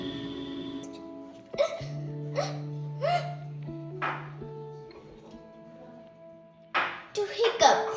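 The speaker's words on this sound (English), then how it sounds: "To hiccups." A hiccup sound demonstrated as a vocabulary example, a few short sharp bursts near the start and middle over a steady background tone, with more vocal bursts close by toward the end.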